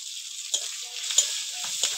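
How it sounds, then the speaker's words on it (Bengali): Chopped onion and green chilli, with bay leaf and five-spice seeds, frying in hot oil: a steady, close hiss with a few soft stirring scrapes and no talking. "এবার পেঁয়াজটা একটু ভেজে নেব।"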